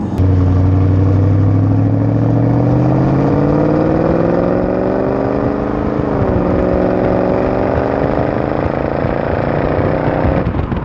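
Jaguar XKR engine burbling loud and close, a steady low rumble that rises smoothly in pitch as the revs build, dips briefly, then climbs again, running continuously with no talk over it.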